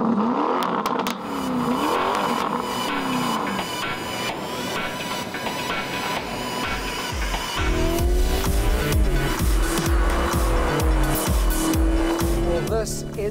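A Lamborghini Urus with an all-aluminium turbocharged V8 engine drones loudly and continuously, shifting pitch and rising toward the end, with someone talking over it.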